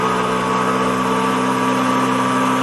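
A Fieseler Storch's propeller engine hums in the FlightGear flight simulator, a steady, loud, even drone with a constant pitch and no other sounds over it.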